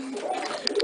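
An injured pigeon with a damaged air sack gives soft, close cooing in a brief low murmur, ending in a couple of faint clicks.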